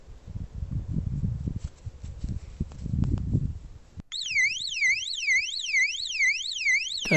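In a backyard bee yard, a few seconds of low rustling and movement give way to a loud electronic alarm that wails in a repeating rising-and-falling sweep, steady and close.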